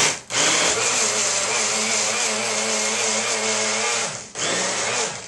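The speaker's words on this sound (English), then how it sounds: "let's blend that up" A kitchen blender whirs a banana protein shake with yogurt, a loud continuous motor roar with a brief dip near the start and another near the end, with no talk.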